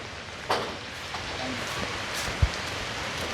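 Rain falling steadily with a soft, even patter and a few louder drops, heard at a moderate level under the weather of a rural Thai setting.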